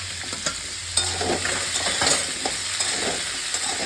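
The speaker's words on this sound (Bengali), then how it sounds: "একটু মূলোটা দিয়ে ভেজে নেবো" Radish pieces sizzle in a pan for a vegetable curry, a steady broadband crackle with stirring scrapes and clicks scattered throughout, close and fairly loud.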